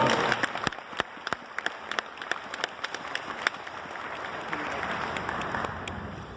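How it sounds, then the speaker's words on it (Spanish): Applause for guests at a conference on femicide, scattered claps from a modest audience rising and then thinning out, with a voice speaking over it. "Pido un aplauso para ellos, por favor."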